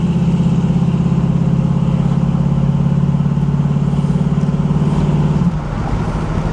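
A 1967 Chevrolet Camaro convertible cruising, its engine and exhaust giving a steady, close low rumble that drops off slightly near the end as the car eases.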